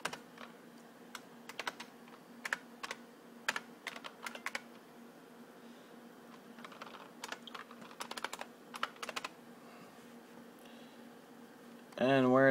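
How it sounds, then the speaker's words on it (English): Keys clatter on a computer keyboard as an Apple ID is typed, with short bursts of clicks spread across about twelve seconds, close and fairly quiet, then a louder sound at the very end. "So I'll type in my Apple ID."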